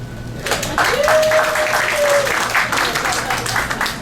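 A comedy show audience breaks into a loud, full round of applause that starts abruptly and holds steady, mixed with cheering and a whistle, with a low hum underneath.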